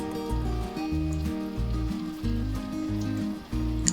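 Onion vadai patties frying in hot oil, a continuous crackling sizzle under a backing of rhythmic music, with no talk.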